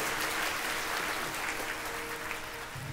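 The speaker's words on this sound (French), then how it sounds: "Applaudissez bien fort Jasmine Gordon, mesdames et messieurs." Audience applause fills a beauty pageant hall as a contestant is announced in third place, a continuous, fairly soft crowd clatter of many hands that holds steady before easing slightly at the end.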